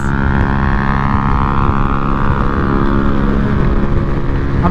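Yamaha Aerox V2 155 scooter racing close by at speed, a loud, steady high-revving engine drone with strong tonal whine that holds and shifts slightly in pitch throughout.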